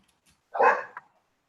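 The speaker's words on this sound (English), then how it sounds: "my dog keeps barking" One short dog bark, a single clear yip-like bark with a small trailing follow-up, close and otherwise alone in a quiet room during an online committee meeting.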